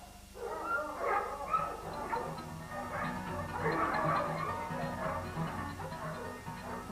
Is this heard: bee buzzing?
no